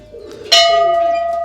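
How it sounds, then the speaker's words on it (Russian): A temple bell in a Nepal village is struck once, giving a loud, close, bright clang that settles into a steady sustained ring, with faint background sounds before the strike. "Ну и сейчас по традиции бьют в колокол и по часовой."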